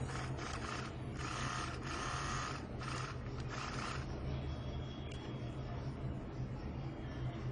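A sewing machine stitching darts on the back portion of a peplum top, rapid mechanical clattering in bursts that settles into a softer steady hum.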